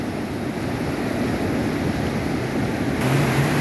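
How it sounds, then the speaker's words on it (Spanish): A swollen river rushes beneath El Túnico bridge near Río Dulce. It makes a continuous, loud, broadband roar of churning water with no voices. "el río está tremendo, ¿eh?"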